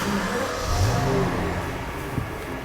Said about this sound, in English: just to fire up the V12, I just put my foot on the brake,